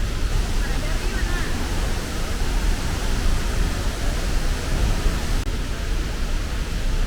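Close, loud and unbroken roar of the river rushing below La Fortuna Waterfall in Costa Rica, a dense churning wash of white water that fills the whole stretch with no pause.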